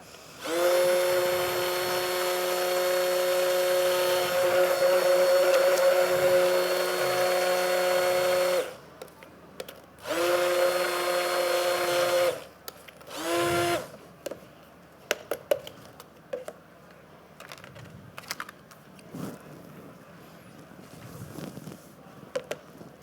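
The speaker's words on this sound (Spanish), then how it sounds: "I'm going to whip this in the mixer." A hand blender mixing pastry ingredients, running loud and steady for several seconds, then cutting out and restarting in two shorter bursts, followed by scattered clatter and quiet.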